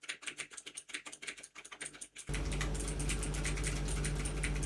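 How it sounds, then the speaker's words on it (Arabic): Someone types on a computer keyboard while playing a video game, with rapid close clicking for about two seconds before loud steady game noise takes over. "تعالوا بقى نجرب ان احنا نلعب بالكيبورد وانا بتكلم كاني ستريمر بالظبط"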